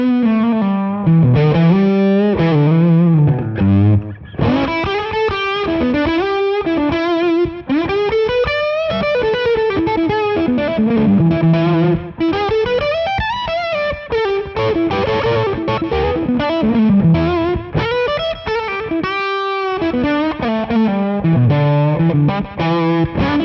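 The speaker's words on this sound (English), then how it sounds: "That's the BOG Fuzz." Electric guitar run through a BOG Fuzz pedal with a TC Electronic Flashback set for slapback echo, playing loud, continuous distorted melodic lines and bends with a short echo trailing each note, no talking.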